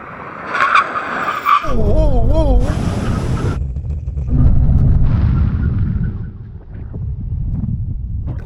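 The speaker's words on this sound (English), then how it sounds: "get ready for the brake test. Hopefully this will stop before the end of the runway." A Tesla Model S Plaid brakes hard on a runway during a supercar brake test, producing wavering tire squeal and a loud rushing roar that fades to a lower rumble. A voice is briefly heard at the start.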